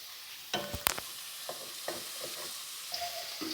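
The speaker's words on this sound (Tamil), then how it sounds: "மீடியம் சைஸ் ரெண்டு வெங்காயம் பொடியாக கட் பண்ணி போட்டிருக்கேன் அதையும் நல்லா கலரி விடலாம்" Two finely chopped medium onions fry in a pan for a brinjal and drumstick poriyal, with a steady sizzle broken by several sharp scraping stirs and clanks of a spoon against the pan, up close and with no voices.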